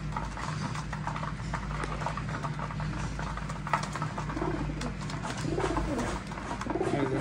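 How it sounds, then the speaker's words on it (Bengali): Racing pigeons at a home loft in Sirajganj, heard as soft, steady cooing and fluttering close by against a constant low background hum, with a few faint knocks and no voices. "আর বাদ বাকি সব আমার বাসার কবুতর"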